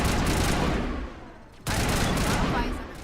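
Dense crossfire gunfire in the Mass Effect video game, a continuous loud barrage of rapid shots and blasts that dips briefly and cuts out for a moment before the firing resumes at full intensity.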